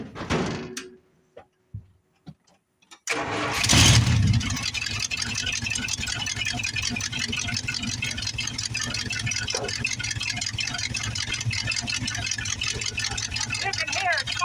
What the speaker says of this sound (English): It's still running rough. So let's get her fired up